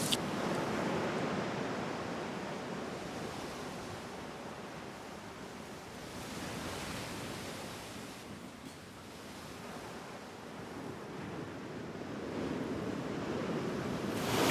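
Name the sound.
sea waves surging onto the shore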